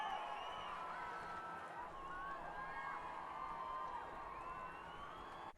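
A crowd at the Formula E e-Prix in Puebla, Mexico, cheers and applauds the race winner in a steady, distant roar with whistles and shouts rising through it.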